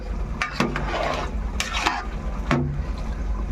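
Vegetable biryani with pulao rice stirred in a pot, a spoon scraping and rasping against the metal in several distinct strokes, close and fairly loud over a low sizzling background.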